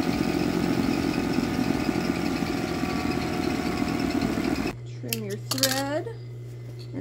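An overlocker runs steadily on stretchy swimsuit fabric, sewing the top and bottom edges in a continuous mechanical hum for several seconds before cutting off, followed by a quieter spell with a high tonal whine and brief voiced sounds.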